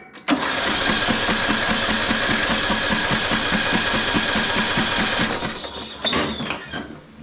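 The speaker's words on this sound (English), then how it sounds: "So I'm going to crank over the engine here and just see if we can get the top end flushed out." A flooded 1998 MTD lawn tractor engine cranks over steadily with a rapid, rhythmic chugging for about five seconds, then stops abruptly, leaving brief quieter rattles and faint noise.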